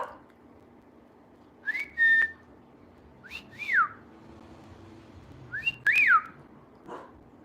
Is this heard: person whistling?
yes